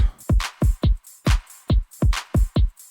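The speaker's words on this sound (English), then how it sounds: "Shaker loop." A shaker loop from a drum sample used in music production, sounding as a tight, regular rhythm of short bright shakes with punchy low hits between them, close and clean with no talking.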